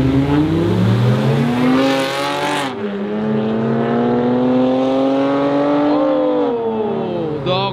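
Street race car engines rev and accelerate, loud rising tones sweeping upward, then shifting as another car roars past, with no talk; a Honda Accord and a Mazda race.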